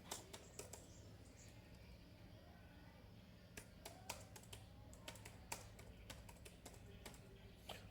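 A computer keyboard clicks quietly and close up in irregular bursts of keystrokes, with pauses between runs of typing, while a command is entered to root a Realme C11 phone.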